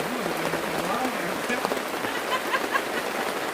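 Steady rain patters on surfaces at a mountain camping ground near a crater, a dense continuous hiss close by, with a faint voice briefly underneath.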